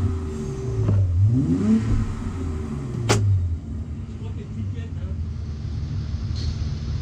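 A BMW E30 with a turbo engine fires up and revs, its pitch sweeping up and down in a couple of swells close to the microphone, then settling to a steady idle as people talk nearby.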